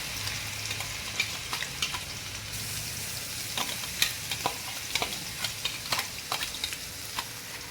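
Green chilli, ginger and garlic chutney sizzling in oil in a pan, a steady frying hiss broken by frequent sharp spatters and stirring scrapes, close and alone.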